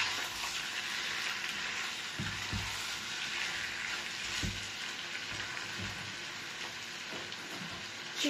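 Chicken wings sizzle steadily in hot oil, a dense, constant crackling hiss, with occasional low clunks as the pieces are stirred.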